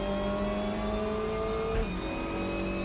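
A TCR touring car engine in the racing game RaceRoom revs high and steady, with a brief gear shift dropping the pitch before it climbs again.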